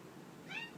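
A house cat lets out one short, faint meow nearby in a quiet room.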